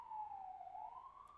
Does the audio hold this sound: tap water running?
no